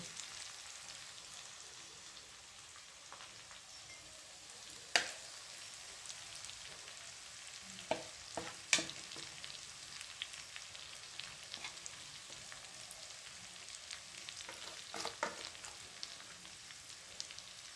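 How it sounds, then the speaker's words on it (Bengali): Soft, steady sizzling of spice paste frying in a pan with a few sharp clicks and scrapes of stirring, fairly quiet and close. "মশলাটাকে আমি হালকা কষিয়ে নিই।"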